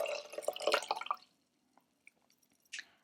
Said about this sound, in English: hold it over the top of the other cup and pour it in